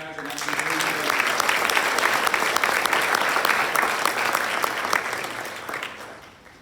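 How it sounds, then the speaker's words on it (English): Applause for athletes at a school spring sports assembly, a dense crowd clapping that swells in after a voice at the start and holds steady for several seconds before easing off. "All right, one more round of applause for these guys"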